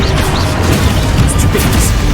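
Confringo, the explosive spell in Hogwarts Legacy, bursts in a loud, dense crash, a short roaring blast with crackling debris that fills the moment up close.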